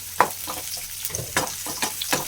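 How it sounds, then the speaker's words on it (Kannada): Onions frying in a pan, stirred with a few sharp scraping bursts spaced over a couple of seconds above a faint, close sizzle. "ಈರುಳ್ಳಿ ಹಾಕಿ ಚೆನ್ನಾಗಿ ಈ ರೀತಿ ಫ್ರೈ ಆದಮೇಲೆ"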